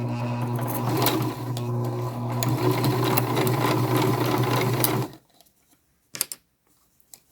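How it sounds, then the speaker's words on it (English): A sewing machine stitches a modern zipper pouch in a fast, even whir that runs for about five seconds, then stops, followed by a couple of faint clicks. "as we sew"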